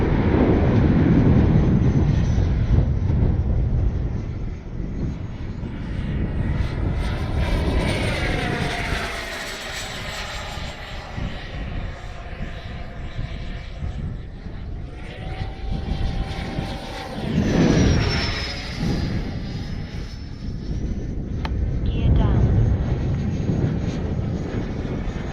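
FMS 80mm F-86 Sabre electric ducted fan RC jet flying past, a loud continuous whooshing fan whine that rises and falls as it passes, with swelling peaks near the start, middle and end.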